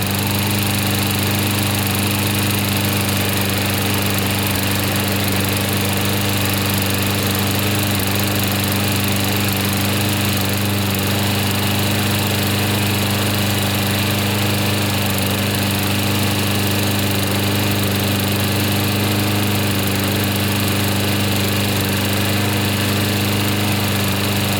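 An old Briggs & Stratton flathead engine fitted to a lawn mower runs steadily at a constant speed, a loud, close, unbroken buzzing drone with no pauses or voices.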